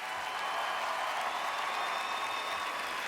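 At a Miss Universe pageant, an audience gives the contestants steady, continuous applause, an even wash of clapping at moderate loudness heard on its own.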